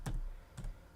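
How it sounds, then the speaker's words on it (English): Two quick, faint clicks on a computer keyboard come from a command being typed during Java setup, close by and spaced about half a second apart. "And then if I type in Java -version,"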